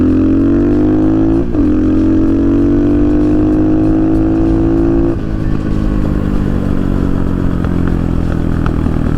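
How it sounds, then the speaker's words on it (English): Close up, a budget dirt bike exhaust blips twice and holds a rising rev, then drops off into a rough, popping deceleration burble, loud and alone. "Pretty cool pops on decel."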